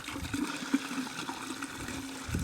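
Milky, frothy rinse water from washed reef-tank sand is tipped out of a container, giving a steady splashing pour with a low gurgle throughout, close and moderately loud.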